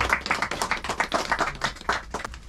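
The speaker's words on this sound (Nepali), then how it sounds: "हामी ताली बजाएर उहाँहरूलाई स्वागत गर्न चाहन्छौँ।" A group at a home church fellowship in Gaighat, Nepal, clapping to welcome guests, steady in an irregular patter of many hands, moderately loud and continuous, with no voices over it.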